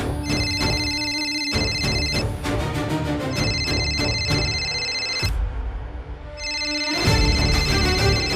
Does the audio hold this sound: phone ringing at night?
yes